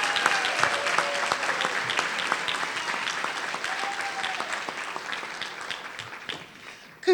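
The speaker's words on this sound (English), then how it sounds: "Let's give them another round of applause" Sustained applause from a crowd at an awards ceremony, dense clapping at close range that fades slightly near the end.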